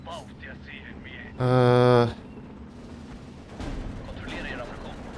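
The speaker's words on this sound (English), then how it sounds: "Yeah, that's the AT gun." An anti-tank gun fires in a war video game, a dull boom rising briefly under ongoing talk alongside a sustained tonal game sound.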